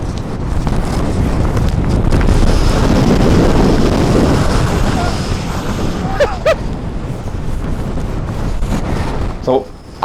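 Gale-force wind gusts on Helvellyn batter the microphone with a loud, continuous roar that swells and buffets. A couple of brief voices break through in the second half.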